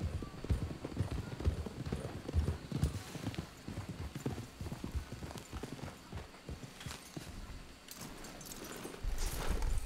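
Steady clip-clop of horse hooves at a trot in the video game Red Dead Redemption 2, fairly close, with muffled talking and ambient noise mixed in throughout.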